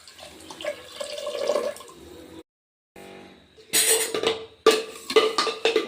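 About three glasses of water are poured over rice and moong dal in a pot for khichdi, heard as several close splashing bursts with brief pauses and a clink of the glass between pours.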